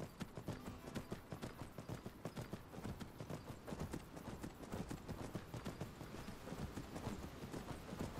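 Horse hooves clip-clop steadily in Skyrim Special Edition, a fast, even rhythm of close, clear hoofbeats that fills the whole stretch with no talk over it.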